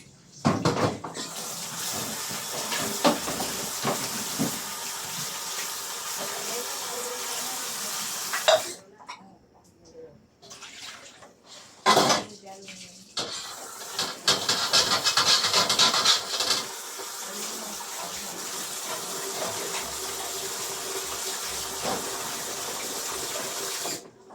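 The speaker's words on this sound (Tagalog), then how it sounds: "Hugasan natin ang ating baka." Raw beef being washed under a running kitchen tap, water streaming steadily and splashing with rubbing handling sounds, broken by brief pauses and a short burst near the middle; a voice speaks at times.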